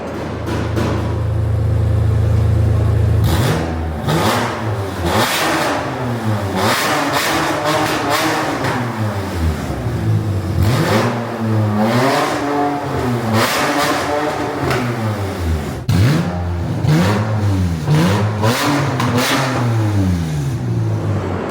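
A BMW E46 M3 engine with a straight-piped exhaust idles loudly, then blips through a run of sharp revs that rise and fall repeatedly, close up and with no talking.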